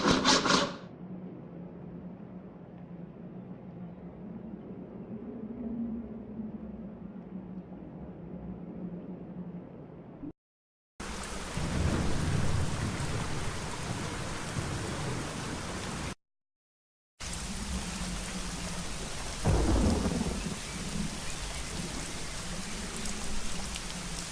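Steady rain pours down in the adventure game Secret Files: Tunguska, a constant hiss of falling water broken by two brief silent cuts, with low rumbles under the downpour.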